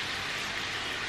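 Tinned tomatoes pour into a hot pan with sausages and onions, giving a brief, steady, loud hiss and sizzle like rain on a surface, heard alone.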